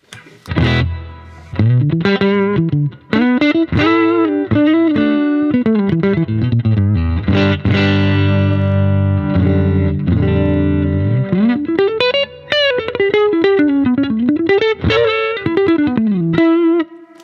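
Loud electric guitar through a Marshall DSL5CR tube amp at full volume and gain, playing sustained chords and sliding bends, fairly clean with slight grit, ringing out with no voices.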